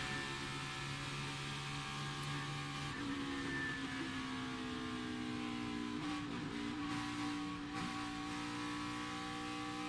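NASCAR race cars roar around the Michigan oval, engines droning loud and steady for the whole stretch, with pitch shifts as cars close up and pass.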